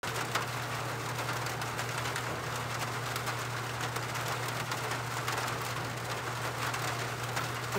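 Steady rain falls in a continuous hiss with scattered drops, under a low constant hum, with no talking.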